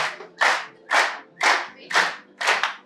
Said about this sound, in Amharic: ሞቅ ባለ ጭብጨባ ወደ መድረክ ጋብዙልኝ